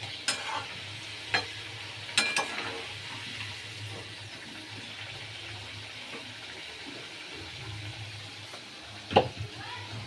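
Potato pieces frying in oil in a pan, browned for a Bengali fish curry, a low steady sizzle with a few sharp clinks and scrapes of a stirring utensil against the pan.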